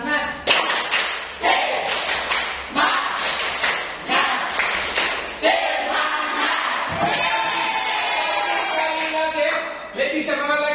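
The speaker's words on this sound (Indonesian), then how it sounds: "Tepuk semangat" An Indonesian school class performs a rhythmic spirit clap cheer, sharp group claps landing in a patterned beat alternating with chanted shouts from the students, loud and close in a classroom.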